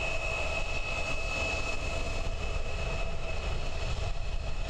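A brand-new Air New Zealand ATR 72-600 turboprop, registration ZK-MZG, departs Christchurch Airport with a steady, loud engine roar and a sustained propeller tone that holds evenly throughout with no speech.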